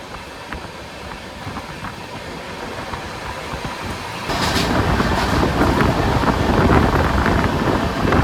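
Aboard the 12304 New Delhi–Howrah Poorva Express passing Anand Vihar Terminal, a constant rumbling roar of wheels and wind grows noticeably louder and denser halfway through, with no voices.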